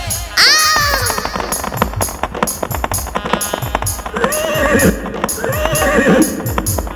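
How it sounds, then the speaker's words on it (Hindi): Horse neighing loudly in a folk song, a shrill whinny near the start followed by clip-clop hoof beats and further whinnies, all set against busy music. "घोड़ा दौड़ल जा रहा है, हिहियाल जा रहा है, टाप बाजार में जा रहा है।"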